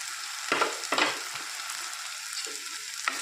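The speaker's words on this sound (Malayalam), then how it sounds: "തക്കാളി ഒന്ന് വഴന്ന് വരട്ടെ" Tomatoes and onions sauté gently on a low flame for a boiled-egg curry, a steady soft sizzle with a few brief stirring scrapes, close and without talk.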